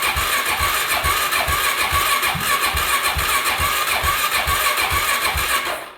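A DRZ stroker big-bore motorcycle engine fitted with a Lectron carburetor runs steadily and loud after starting in a cold garage, its close, rapid firing pulses holding even before tapering off at the end.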